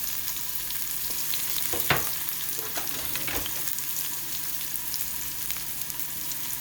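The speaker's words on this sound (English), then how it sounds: "We're going to let that saute up real good, okay?" Ingredients for ground lamb rice balls sauté in a pan, a soft steady sizzle with a few spoon taps and scrapes, one sharper knock near the start, close but moderately quiet.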